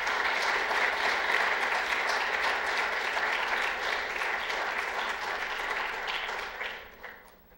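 A lecture audience applauds to welcome speaker Stephen Evans, with dense, sustained clapping from many people that gradually fades out toward the end.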